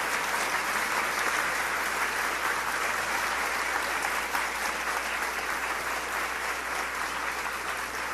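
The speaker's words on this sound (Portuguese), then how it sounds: "o Nivaldo Osório, que eu gostaria que todos dessem uma salva de palmas para ele" Continuous applause fills a solemn ceremonial session, a thick, even patter of many hands clapping at steady volume throughout with no speech on top.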